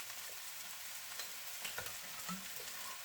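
Egg noodles and prawns stir-fried in a hot pan, a steady moderate sizzle with occasional stirring clatter and tosses, nearby and without talk.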